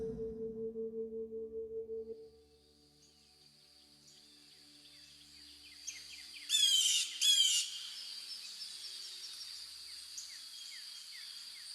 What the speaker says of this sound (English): the sound of the bird's song returns